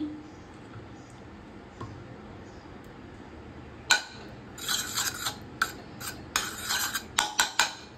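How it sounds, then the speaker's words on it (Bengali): Quiet background, then from about halfway a run of scraping and clinking strokes of a utensil stirring ghee in a frying pan, irregular and fairly close. "ভালো করে একটু নাড়িয়ে নিচ্ছি"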